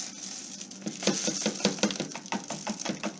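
Hemp seeds are dumped into a blender on a kitchen counter, making a quiet, irregular patter of small hard seeds rattling and clicking against the jar for a few seconds.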